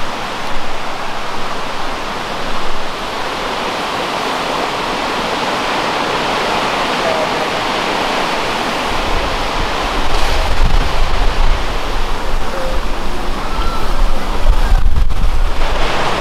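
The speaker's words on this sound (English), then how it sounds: "Beautiful waterfall." A waterfall in a gorge roars with a steady, dense rush of falling water close by. Gusts of wind on the microphone add low rumbling toward the end.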